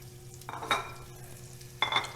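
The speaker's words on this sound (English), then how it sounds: "carefully put the shanks down in the oil" Meat shanks go into hot oil to sear, giving two short sizzling bursts as pieces are set down, with a soft, steady fry hissing underneath between them.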